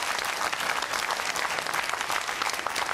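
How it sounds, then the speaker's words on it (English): A studio audience at a televised political debate in Newcastle bursts into loud, dense applause, a continuous wash of clapping with no pauses throughout. "You were drowned out by the applause."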